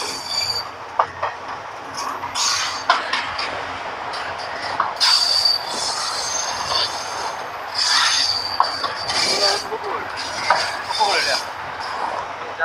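At Brahmanbaria station, the Parabat Express from Dhaka to Sylhet squeals loudly in repeated shrill metallic bursts from its wheels over a low rolling clatter, the screeches coming and going in uneven waves.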